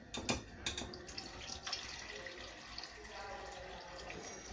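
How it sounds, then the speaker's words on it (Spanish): Apple cider vinegar pours over anchovies being marinated, a soft liquid trickle and splash up close, faint and brief, with a few clinks at the start. "Y ahora ya le echamos el vinagre."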